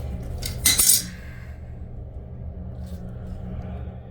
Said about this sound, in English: So we undo this nut right there, and then that fill valve will pop out.